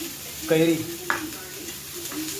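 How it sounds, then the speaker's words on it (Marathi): Okra (bhendi) fries in a home kitchen pan, a soft steady sizzle with a couple of brief stirring sounds, and a voice briefly audible over it. "आज बघा जेवणासाठी भेंडी फ्राय बनते."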